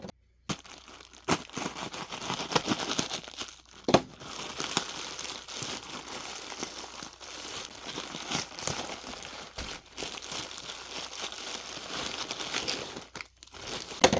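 Bubble wrap and plastic packaging around gemstone spheres crinkle, crunch and tear steadily for about fourteen seconds, close to the microphone and fairly quiet, with no one talking over the handling.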